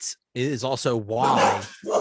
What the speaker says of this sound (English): I have dogs barking in the background